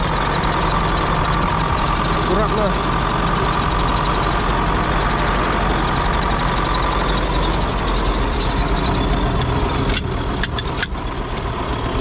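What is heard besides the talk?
tractor engine idling after finally starting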